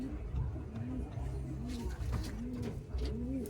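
Pigeons coo nearby in repeated soft, throaty phrases at a steady rhythm, with faint rustling and background noise between calls.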